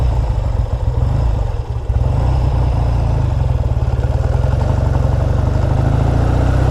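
A 1959 Triumph Bonneville T120 motorcycle engine running close by, a loud steady idle with a fast even mechanical throb and clatter, briefly dipping once before settling back into a constant rumble.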